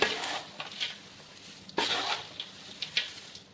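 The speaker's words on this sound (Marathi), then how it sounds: "त्या प्लेटच्या साह्याने इझिली तुमचा चिवडा एकत्रित होणार बघू शकता अगदी कमी गॅसवर याला एकत्रित करायचं आहे" A plate is used to stir and toss namkeen chivda in a pan over a low flame, giving soft, faint scraping and rustling strokes in short bursts with no talk.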